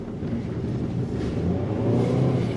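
A car engine revs in the snow, a steady low rumbling drone that swells slightly toward the end, loud and close without any talking.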